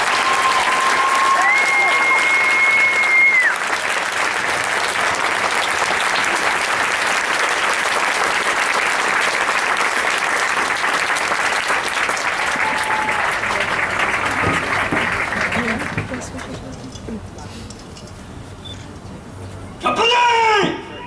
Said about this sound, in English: please join us in a warm round of applause for the officers and drill instructors of